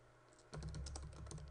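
A search being typed on a computer keyboard, quick close key clicks in a steady run after a quiet start, no talk.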